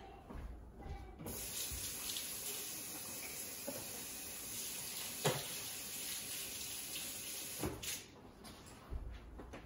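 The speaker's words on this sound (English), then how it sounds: "Really important, wash your hands." A kitchen tap runs steadily for hand washing before cooking banana pancakes, a close, continuous water hiss with a few brief splashes and a clunk near the end.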